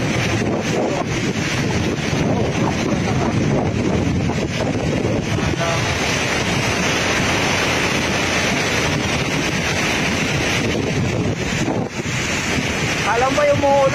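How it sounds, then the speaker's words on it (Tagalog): A tall waterfall in Mindanao, Lanao, roars continuously as water falls from a great height, a loud, dense, unbroken rush heard close up with heavy wind buffeting the microphone. "sa bagsak ng ano, sa bagsak ng tubig"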